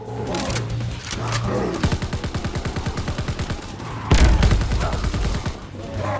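Rapid bursts of automatic gunfire from Call of Duty: WWII, loud and close, firing in fast regular rhythm with brief pauses and a heavier burst partway through.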